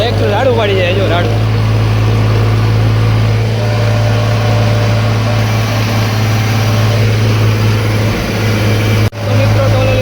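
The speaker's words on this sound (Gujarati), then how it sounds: "ટ્રેક્ટર રાડું પાડી જાય" An overloaded tractor hauling metal gravel from a hill quarry roars with a steady, loud, low engine drone close by, holding an unbroken heavy hum with faint voices beneath it.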